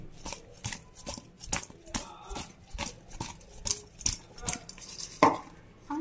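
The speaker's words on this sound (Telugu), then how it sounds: "ఇప్పుడు దీన్ని టాస్ చేయాలి." Potato fry tossed in a cooking pan makes a steady run of sharp scraping and clattering bursts, roughly one every half second, with a louder clang near the end.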